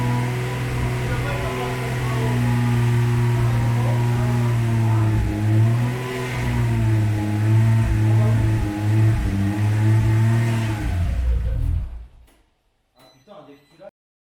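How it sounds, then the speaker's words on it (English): A Nissan S15 drift car's RB26 engine runs close by in a steady, loud idle with slight revs rising and falling, then cuts off abruptly near the end, leaving a few faint knocks. "The engine is complete, it is running,"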